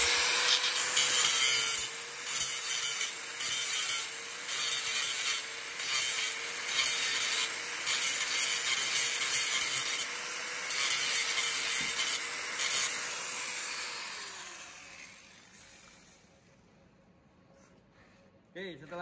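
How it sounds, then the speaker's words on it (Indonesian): An angle grinder grinds trapped slag off a tack weld in 3G SMAW welding, making a sustained, loud, rough grinding whine that runs for many seconds before winding down and fading out. "Ini baiknya kita gerinda sedikit supaya teraknya itu hilang."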